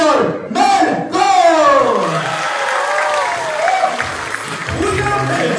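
A rally crowd at a miting de avance in Barangay Cabuyo, Torrijos, Marinduque cheers, shouts and claps for gubernatorial candidate Mel Go; loud whoops and yells rise over sustained clapping, with an amplified voice mixed in.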